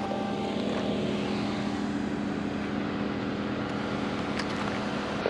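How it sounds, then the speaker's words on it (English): A DJI Mini 2 drone flies outdoors in 119-degree Fahrenheit heat, its propellers giving a steady, fairly loud whining hum throughout with no speech. "We're gonna go ahead and put the drone up one more time"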